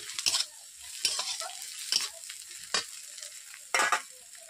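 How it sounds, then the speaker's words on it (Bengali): Onions and ginger frying in a pan for a green banana dish: a soft, continuous sizzle broken by about five sharp scraping stirs of a spatula, heard close up. "পেঁয়াজগুলোকে আধো আধোভাবে ভাজবো, যেহেতু ছেঁচড়া রান্না করবো তার জন্য আধো আধোভাবে ভাজলাম।"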